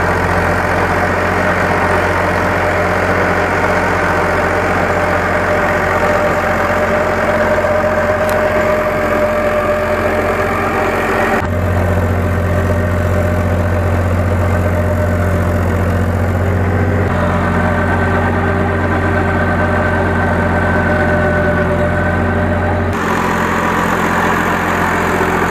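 A Euro 50 tractor driving an eight-foot rotavator, its engine running loud and close in a steady low drone for the whole stretch, with the pitch and load shifting slightly partway through.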